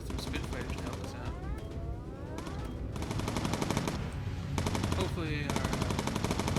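Rapid machine-gun fire from a bomber's turret in the WWII game Bomber Crew, dense continuous bursts with whistling sweeps of diving aircraft over a steady engine drone.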